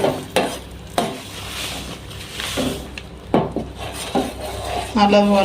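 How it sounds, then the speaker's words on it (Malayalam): Roasted gram flour stirred into melted ghee in a pan for Mysore pak, repeated scraping knocks of a spoon against the pan over a soft sizzle, with a brief clink near the end. "ഇളക്കി എടുക്കണം കൈ എടുക്കാതെ ഇളക്കി കൊടുക്കണം"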